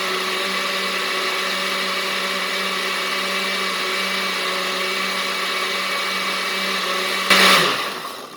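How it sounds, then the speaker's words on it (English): Blender whirring steadily as it purées a pineapple ghost pepper hot sauce with lime and zest, a loud continuous motor drone that surges briefly near the end before cutting off. "Put it back on and blend."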